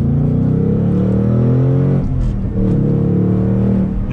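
A Ford Mustang Mach 1 with manual transmission and handling package, exhaust set to track mode, rumbles loud and close with a deep steady drone, briefly dipping as it shifts before pulling again.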